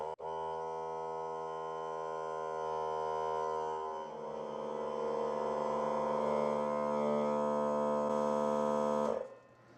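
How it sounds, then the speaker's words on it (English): A Harbor Freight 3-gallon, 100 PSI air compressor runs while filling its tank, giving a loud, steady droning hum with a rough pulsing texture that shifts midway and then cuts off abruptly near the end. "I'm just going to go ahead and turn it on and let this thing start pumping up."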